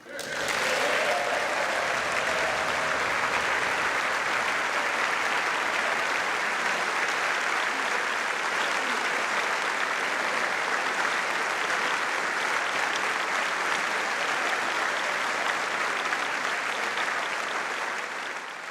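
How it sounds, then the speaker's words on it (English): Members of Congress give a sustained, loud round of applause after King Charles's joint address; the dense clapping holds steady for the whole stretch, full and even like a large chamber ovation. "Congress there giving King Charles a round of applause after his joint address to Congress."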